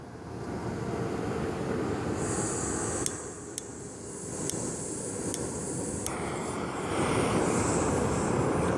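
A small camp cook stove burner lit outdoors on a beach in a breeze, giving a steady broadband roar with gusting wind noise throughout, a high hiss joining partway, and a few sharp clicks near the middle.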